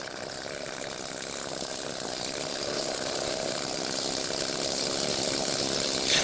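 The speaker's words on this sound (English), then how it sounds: "The needle scaler is effective on welds, corners and irregular surfaces." A needle scaler hammers paint off a steel surface, giving a continuous loud buzzing rattle that holds steady and close throughout, with no talk.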